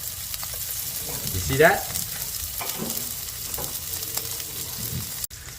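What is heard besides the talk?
shrimp with shells frying in a hot pan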